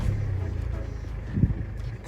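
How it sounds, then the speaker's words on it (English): A Mercedes A Class engine turns over and catches, a low close rumble with a brief louder surge midway before settling into a steady idle. "let's start the car."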